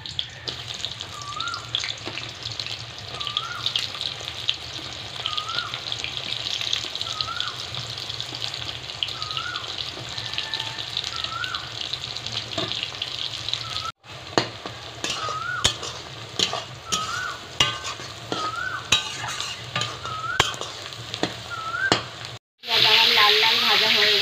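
Five sliced onions frying in oil for beresta in a home kitchen, a constant sizzle with frequent stirring and spatula scrapes, briefly cutting out twice before the frying noise returns louder.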